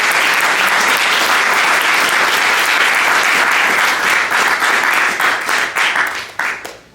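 Church congregation applauding during a worship service, a loud, sustained wash of many hands clapping together that holds steady before thinning into scattered claps and fading out.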